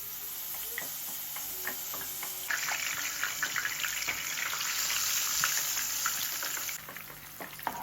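Garlic spice paste frying in hot oil for a simple home-cooked capcay: a close, steady sizzle scattered with small crackles and pops that swells louder partway through, with no talking.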